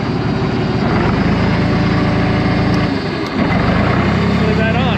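A John Deere 350C track loader's diesel engine runs loud and close with a steady rumble, dipping briefly before the throttle comes back up.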